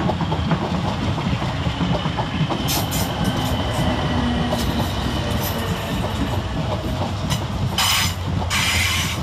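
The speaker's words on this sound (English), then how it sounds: "Next around the corner is 455-707, 455-873 and 456-018. With the 1837 South Western Railway service from London Waterloo to Kingston." South Western Railway Class 455 and 456 electric units, 455-707, 455-873 and 456-018, run through Clapham Junction on a Waterloo to Kingston service, with a steady loud rumble, repeated wheel clicks over rail joints and brief high squeals.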